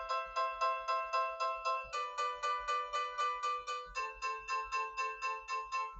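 Bright electronic piano-like notes tapped on a Kodak K11 tablet piano app in a steady repeating pattern, shifting pitch every couple of seconds, clear and close with no talking.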